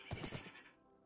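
A horse neighs in Minecraft on Xbox 360, a short, faint whinny that fades out within a second.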